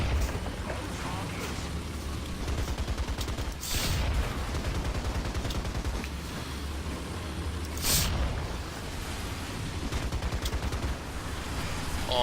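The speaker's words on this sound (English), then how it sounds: "you just seen the machine guns critted him" Machine guns on an M3 Stuart light tank in a video game, rapid steady rattling bursts under constant engine and battle noise, with two sharper louder impacts standing out.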